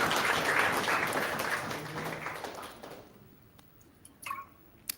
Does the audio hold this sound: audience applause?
yes